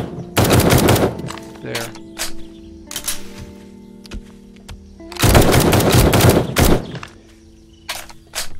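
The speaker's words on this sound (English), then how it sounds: "all we got to do now is shoot a couple guns" Gunfire in the zombie survival game 7 Days to Die (Alpha 20), with two loud bursts of rapid automatic shots separated by quieter stretches of scattered single shots, and someone briefly speaking.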